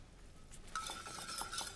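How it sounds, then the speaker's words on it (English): Salt and pepper being whisked together in a bowl: soft, quick metallic scraping and clinking strokes that start after a brief quiet moment, close and faint. "just whisk it all together"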